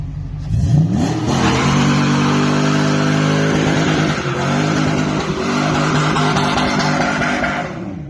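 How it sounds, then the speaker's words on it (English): An LS-swapped BMW E46 with an open differential does a burnout, the V8 revving up hard and then holding a loud, sustained roar with tire squeal, close by and with no voices. "Let's do some burnouts."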